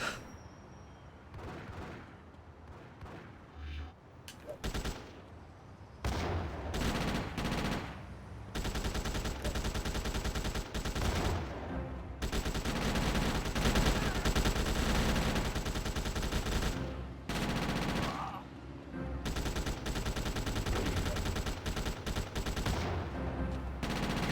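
Gunfire in GTA Chinatown Wars on PSP: dense bursts of automatic weapon fire with heavy booms, loud and nearly continuous, broken by a few short pauses.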